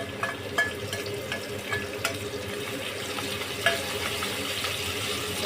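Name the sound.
frying chopped green chillies and ginger in pan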